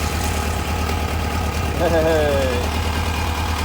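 Kawasaki 1000 ATV engine settling into a smooth, steady idle just after starting, a constant low rumble running throughout with someone speaking briefly over it.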